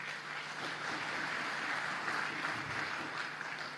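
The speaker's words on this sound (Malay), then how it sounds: "Tepuk tangan." Audience applause fills a party assembly hall during a speech at the annual general assembly, a steady, dense wash of clapping that holds at an even level throughout, with no voices standing out.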